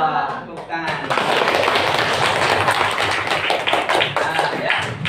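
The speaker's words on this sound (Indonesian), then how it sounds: "Tepuk tangan." Classroom clapping during a lesson, a burst of hands clapping together that starts after a brief pause and stays loud and busy, with voices mixed in.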